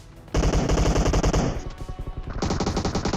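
Rapid automatic gunfire in the mobile battle royale game PUBG Mobile, loud and close, with two sustained bursts of rattling shots separated by a short pause.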